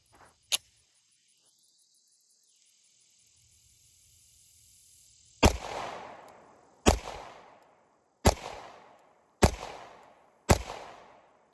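A Glock 43X pistol fitted with an ARC Division Sparc43 V2 sight fires Hornady 124 grain +P rounds: one early crack, then after a quiet pause five loud, sharp shots spaced about a second apart, each with a short ringing tail.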